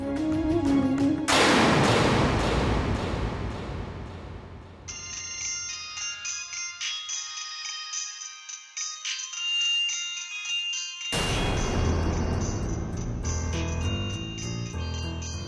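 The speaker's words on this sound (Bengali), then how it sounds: "দিদির ফোন করছে কেন?" A loud electronic phone ringtone plays a bright melodic tune, pausing briefly before repeating, with no one speaking.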